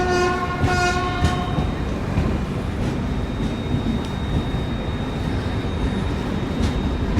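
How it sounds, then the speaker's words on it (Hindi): Kota Patna Express pulling out of Kota Junction, a station under construction: a loud horn blast at the start, then steady close rumble and rattle of the moving coaches throughout. "अपनी कोटा पटना एक्सप्रेस निकल रही है कोटा जंक्शन से"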